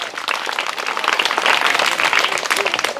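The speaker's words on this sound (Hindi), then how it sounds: "बहुत अच्छे, तालियां" Schoolchildren in a government school classroom clap together in a dense, lively burst of applause that swells and holds for a few seconds.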